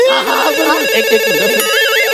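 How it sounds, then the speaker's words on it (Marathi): A telephone rings with a warbling electronic ringtone, repeated trilling tones sounding loud and close throughout, with faint voices barely beneath. "फोन आहे."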